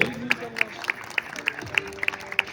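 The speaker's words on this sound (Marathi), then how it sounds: "एकदा जोरदार टाळ्या वाजवायचे" An audience at a polytechnic accreditation celebration claps in a steady, evenly spaced rhythm of sharp hand claps, moderately distant, with a voice talking over it.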